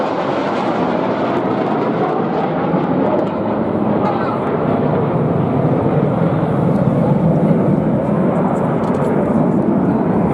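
Red Arrows jets at a seaside airshow in Portrush roar past in a continuous loud, broad rumble that holds steady for the whole stretch, with a crowd and commentary mixed underneath.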